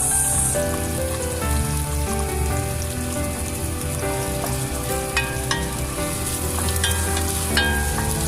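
Tomatoes added to a hot frying pan give a steady, dense sizzle like light rain, with occasional crackles and pops, close and even throughout, no talking.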